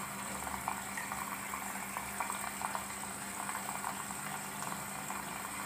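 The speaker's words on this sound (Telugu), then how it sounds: "ప్రీ వాష్లో తీసుకుంటుందండి వాటర్ ఇది." An IFB Senorita Aqua SX front-loading washing machine drawing in water during its prewash test, a steady rushing, bubbling flow with faint gurgles.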